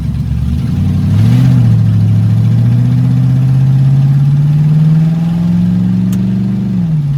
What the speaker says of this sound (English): We're going to start in first gear and work our way up and see what it does.